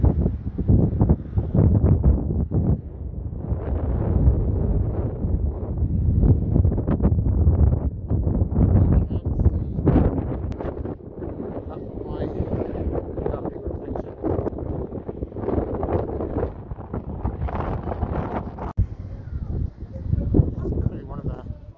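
Strong, steady wind gusting across the microphone by the shore of Lake Taupo in New Zealand, a continuous loud rumbling buffet for the whole stretch with no clear voices.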